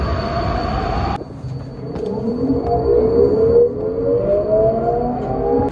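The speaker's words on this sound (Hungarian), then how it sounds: "Hogy tetszik Marcel a metróállomásunk?" A metro train moves through a Budapest subway station, with a loud rumbling rush and a rising whine as it pulls away, steady and close, with no talk over it.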